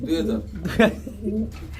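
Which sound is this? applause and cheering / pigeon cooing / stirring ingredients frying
pigeon cooing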